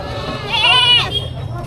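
Goats bleat loudly and close by in a ring at a livestock auction in Padre Garcia, Batangas, a single wavering cry lasting about a second.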